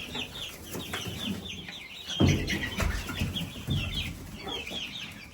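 A flock of chickens clucks and chatters continuously around a chicken run, several birds close by with overlapping calls and a couple of louder squawks over faint outdoor background.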